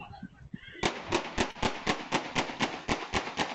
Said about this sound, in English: Neighbor surveillance video captured the moment gunshots went off.